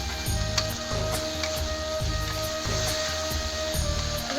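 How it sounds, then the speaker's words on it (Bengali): Spice paste and tomato being fried in a pan for dum aloo, with a soft, continuous sizzle under a repeating low thudding pulse. "এই মশলাটা ভালো করে কষাই নেব টমাটারটা ভালো করে কষানো হয়ে যাবে"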